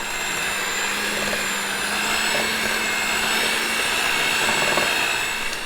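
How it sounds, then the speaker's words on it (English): Electric hand mixer creaming butter and sugar for snowball cookies, a steady continuous whirring drone held at even loudness throughout, close and alone with no talking. "I'm just going to take my hand mixer, and for about like a minute or so, I'm just going to turn it on and combine the sugar and the butter"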